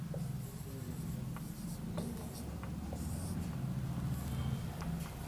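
A teacher writing on a classroom board during an English grammar lesson, giving a steady, continuous scratching with faint taps, close and unbroken.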